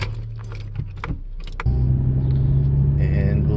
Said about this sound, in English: I'm going to turn the car on and let's see what the TSP Stage 1's all about.